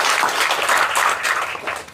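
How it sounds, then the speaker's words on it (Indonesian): Audience applause for a doctor at an Indonesian talk event, a steady wash of many hands clapping, fairly loud and continuous, tapering slightly toward the end. "Aplaus sekali lagi buat Pak Dokter."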